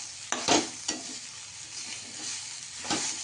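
Green chillies roasting and being stirred in a pan for Maharashtrian thecha, a steady close sizzle broken by a few louder scraping stirs near the start and end.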